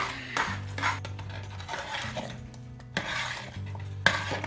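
Thick Sri Lankan thothal (dodol) is stirred in a pot over medium heat, giving repeated close scraping and clattering of a spoon against the metal, in uneven strokes.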